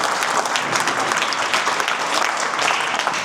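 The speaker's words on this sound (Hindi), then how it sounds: "एक बार भाई साहब के लिए जोरदार तालियां बजाएं" Loud, dense applause from a crowd at a wrestling academy for a visiting guest, continuous clapping sustained throughout at close range.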